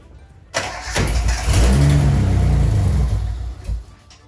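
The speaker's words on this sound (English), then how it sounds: "we'll probably be able to get this car started pretty soon" A 1974 Datsun 260Z on a family restoration project cranks briefly, catches and fires, then revs up loudly and holds a rough, surging roar for a couple of seconds before dropping back, close to the car with no talk.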